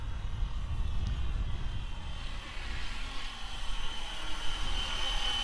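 A FW450L V3 Fly Wing GPS radio-controlled helicopter flies nearby, its motor and rotors making a steady, thin whining hum over constant outdoor noise.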